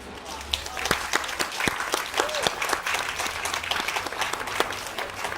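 A crowd at an Independence Day reading applauds, with scattered sharp claps rising and falling over several seconds while voices carry faintly underneath.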